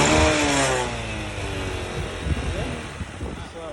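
A Honda motorcycle engine starts and revs up close, a loud rising whine settling into a steady running drone, while someone speaks over it.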